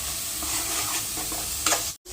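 Masala for hotel-style chicken gravy fries and is stirred in a pan, giving a steady close sizzle broken by soft scraping of the stirring spoon and a brief clatter near the end.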